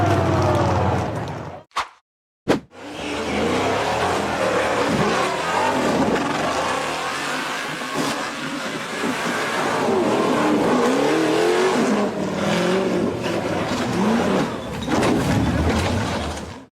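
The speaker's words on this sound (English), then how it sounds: "The orange tube frame buggy fought for traction as it powered up the muddy, slippery hill." Orange off-road tube frame buggy powering up a muddy, slippery hill in a forest: a loud, sustained engine roar with rising revs and surges, broken by a brief cut near the start.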